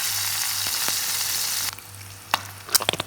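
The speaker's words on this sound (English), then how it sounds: "So then you add some bacon and continue frying" Bacon frying in reused oil in a pan, a loud steady sizzle that cuts off abruptly partway through, leaving faint crackles and a few sharp clinks of stirring at close range, with no talk.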